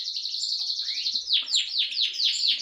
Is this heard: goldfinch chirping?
yes